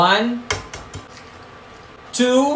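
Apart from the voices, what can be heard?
eggs placed into pot of boiling water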